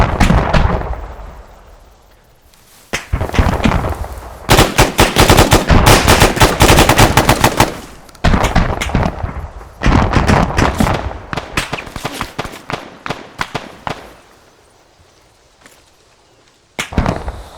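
Heavy gunfire from an AI-controlled vehicle laying suppressive fire in Arma 3, loud sustained bursts of automatic fire broken by short pauses, with a quieter lull near the end before one last burst.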